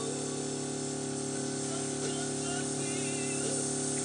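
Airbrush spraying ink in a steady, continuous hiss onto a test cloth at close range, holding an even level throughout with a faint tonal hum underneath and no voices.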